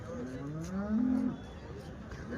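A cow lets out one long, rising moo at the weekly Sunday cattle market in Chintamani, close and clear above a low murmur of market voices and background bustle.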